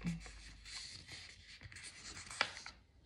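A tool scoring paper for a junk journal notepad: faint, brief scratchy strokes close up, ending with one sharper scrape.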